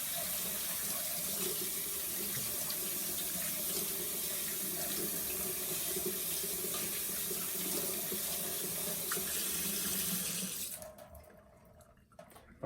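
A faucet runs steadily into a sink during handwashing, a continuous close rush of water that cuts off near the end and leaves quiet.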